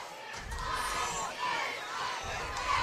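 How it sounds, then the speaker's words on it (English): A large crowd at a high school football game, Ardmore against Elkmont, with full stands and people standing in the end zones, roars and shouts in a steady, dense wash of cheering from nearby and across the field. "Big crowd here at Ardmore. The stands are full, at least all across the way."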